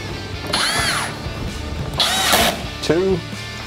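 Power drill driving screws into a Roush front fascia on an S550 Mustang: three short, close whirring bursts with pitch sweeps, separated by pauses, as a person talks between them.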